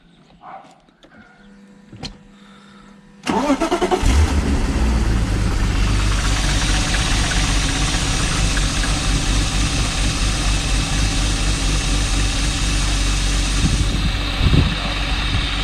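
A few faint clicks, then a BMW M52 straight-six petrol engine cranks and catches after a cam sensor replacement, settling into a loud, steady idle that runs on to the end.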